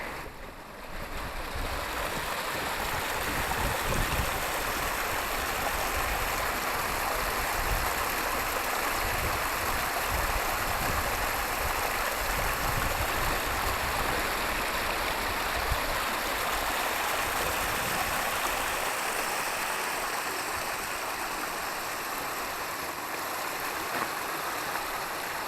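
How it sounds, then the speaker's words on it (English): Steady rushing water from a small moorland waterfall pours continuously at close range, a broad unbroken hiss with no voices, holding at an even level the whole time. "there's a lovely little waterfall."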